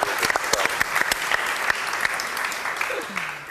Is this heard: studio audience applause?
yes